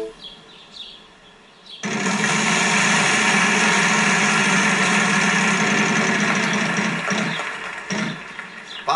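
A spinning wheel in the Wheel of Fortune video game on PS3 sets off a loud, steady, buzzing rattle that starts abruptly after a quieter stretch and carries on for about six seconds before easing off near the end.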